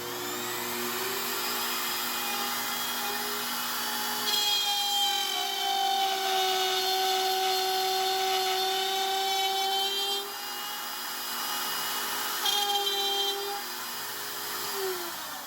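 A trim router plunges into and cuts wood, a loud, close, high-pitched motor whine that shifts pitch as it bites, with a continuous rush over about fifteen seconds.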